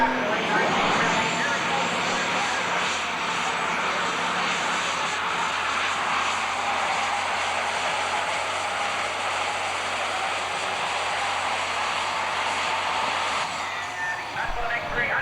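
A pulling tractor engine roars at a 1988 Grand National tractor pull at Cayuga Speedway, a loud sustained broadband drone holding steady for most of the run before easing off near the end.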